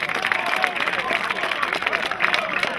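Crowd at a Lowlanders versus Falcons match applauding player Damian Kołpak, a dense wash of clapping and cheering that runs continuously, loud and close, with a commentator's voice over it.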